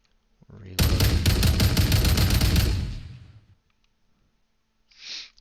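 Rifle gunfire in a wave shooter video game, a loud rapid burst of shots lasting about two seconds that then fades out, followed by a short breathy sound.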